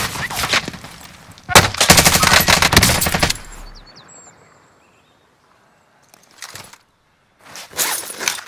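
Gunfire in Call of Duty: Modern Warfare, loud close automatic bursts that rattle for a couple of seconds, fade into a quiet stretch with a faint distant crack, then flare again in short bursts near the end.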